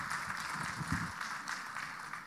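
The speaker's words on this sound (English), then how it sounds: "Please give him a big round of applause" An audience at a professional talk on insolvency claps, a fairly faint, steady patter of applause from a room of listeners, with no clear speech over it.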